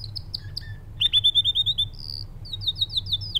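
A canary sings in short bright chirps and quick rapid trills, a few bursts in a row over a low steady hum.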